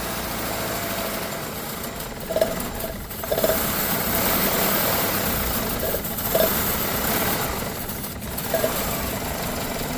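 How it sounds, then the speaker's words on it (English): A car engine idles steadily during a catalytic converter test, a continuous low rumble with a few brief knocks and bumps, close and alone with no talking. "I'm going to let the engine idle."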